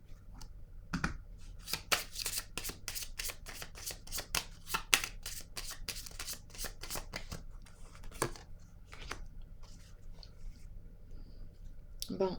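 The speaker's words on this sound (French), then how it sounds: "Attendez, je vais piger une carte sur l'eau." A deck of cards is shuffled and a single card is drawn: a long run of quick, crisp riffling flicks at close range, then a few scattered snaps and slides as the card comes out and settles.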